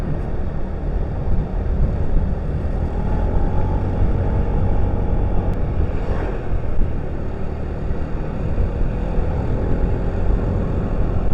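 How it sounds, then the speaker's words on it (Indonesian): A motorcycle engine drones steadily on a winding road through Cikidang, Sukabumi, its rough, sputtering running close and loud throughout with no pause. "Aduh, motor berebet."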